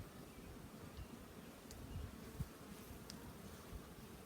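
Honey bees in a top bar hive give off a faint, continuous buzzing drone with a few brief rustles and knocks, heard quietly and without speech.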